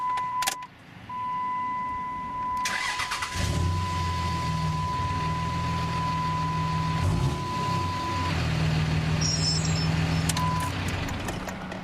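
A 2006 Dodge Ram 3500 pickup truck engine with 200,000 miles starts and settles into a steady low rumbling idle, with a warning chime beeping early on and some clicks and rattles.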